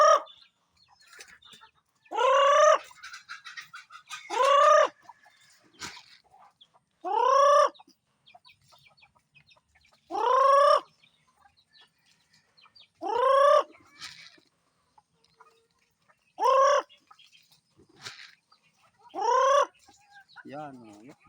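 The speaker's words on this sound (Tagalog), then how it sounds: "Yan, oh, yan, mga manok. Away-away na sila." Chickens on a small backyard farm squawk and cluck loudly in repeated sharp bursts, several close calls spaced a couple of seconds apart with quieter rustling and faint clucks in between.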